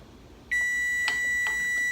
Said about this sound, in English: Okay, timer's ready to go off.